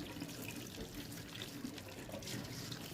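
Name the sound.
rinsing meat under hot tap water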